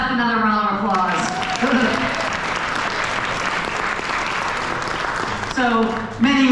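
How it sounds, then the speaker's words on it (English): A political dinner crowd breaks into sustained, dense applause between bits of a speaker's voice at the start and end, the clapping loud and close. "another round of applause."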